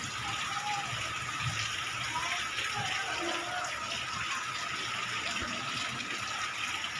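Heavy rain falls in a continuous, even wash of hiss with faint low rumbles beneath, steady throughout and moderately quiet, with no talking.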